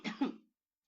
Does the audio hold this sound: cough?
yes